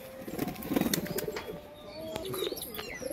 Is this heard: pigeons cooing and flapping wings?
yes